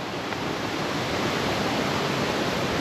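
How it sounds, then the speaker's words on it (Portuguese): Heavy rainwater rushes down a flooded mountain trail after days of rain, a steady, loud, broadband roar of running water with no break and no voices. "então é muita água escorrendo aí pela montanha"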